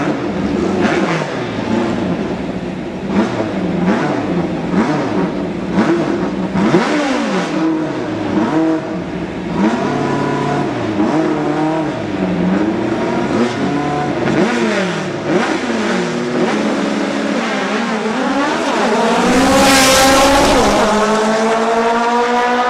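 Drag racing cars in a final at Farmington in 2007 accelerate down the track, loud sustained engine roar with repeated sweeping gear-change revs, fading and then surging again near the end.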